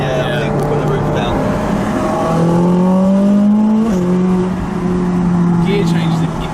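Ferrari 458 Spider V8 pulling hard with rising engine pitch and a quick gear change midway, loud and steady from inside the car, with talk running over it.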